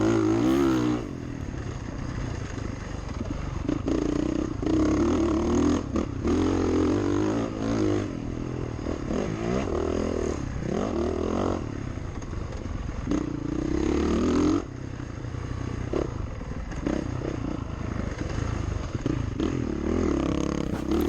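A Yamaha dirt bike engine roars steadily throughout a hot enduro sprint race, its revs rising and falling as it closes in from behind, loud and continuous with no talk.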